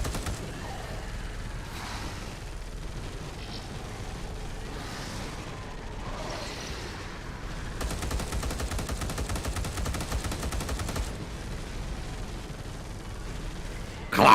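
Gunfire in a video game comes as a sustained burst of rapid automatic shots in the middle, preceded and followed by scattered rumbles and bangs, loud and dense, with no speech.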